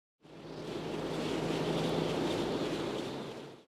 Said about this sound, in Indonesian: Di tengah hutan, hanya ada suara angin malam yang terdengar.